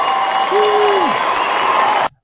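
A studio crowd whoops and claps in a dense, steady burst lasting about two seconds after a bell rings during a recap show, then cuts off abruptly.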